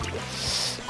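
A Splatoon character plunges into green ink, a wet splashing, gurgling whoosh that fills the brief moment, loud and close with no talking.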